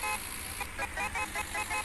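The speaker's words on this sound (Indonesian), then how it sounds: "Dimnya pun ada suara include sama suara klakson cuy." A bus horn honks in a bus driving video game, a series of short, loud toots over a constant engine drone, with no talk.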